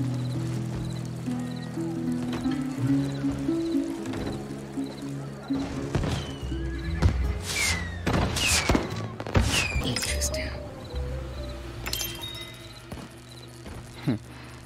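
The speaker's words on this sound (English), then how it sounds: "Looks like the fireworks crew lost the schedule." Fireworks explode in a Desperados 3 cutscene, a cluster of loud booms and crackling bursts in the middle, set against a steady background of ambience and music.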